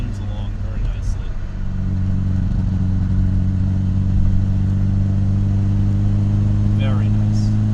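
A 1987 Mercedes 190E 2.3 engine humming smoothly while the car is driven, a steady low drone that rises slightly in level and runs throughout, with a few faint clicks and rattles near the start and near the end.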